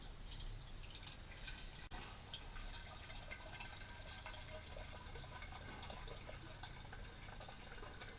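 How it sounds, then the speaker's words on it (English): Hot water pours steadily into a jug for mixing brewery cleaner, a faint continuous splashing trickle with no talk. "Same again, I'll whack some hot water in it."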